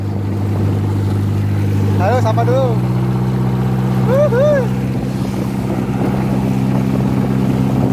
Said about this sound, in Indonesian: Kelotoknya nggak berisik guys, karena pakai mesin kijang.